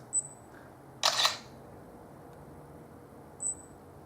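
A DOOGEE MIX smartphone camera shutter fires once with a short, crisp mechanical snap, framed by two brief high electronic beeps in an otherwise quiet room.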